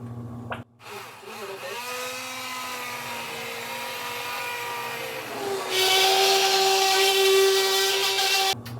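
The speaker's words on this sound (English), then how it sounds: "I just want some of it to be blended up" A hand blender purees hot red lentil curry, its close motor whine starting up, holding a steady pitch, then rising higher and harsher as the load changes before it stops, with no speech.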